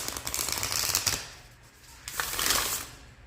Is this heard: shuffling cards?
yes